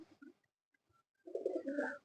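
A single pigeon gives a low, throaty coo, with a few short faint notes first and then a fuller rolling call near the end, close and quiet.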